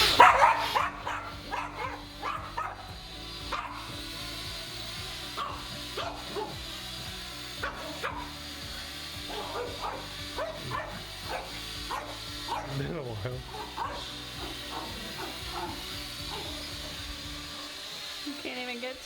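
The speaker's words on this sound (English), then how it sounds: "Popeye's gonna bark" Popeye the dog barks repeatedly indoors in short scattered yaps and whimpers over a low steady whir from a small indoor camera drone, while a person keeps talking throughout.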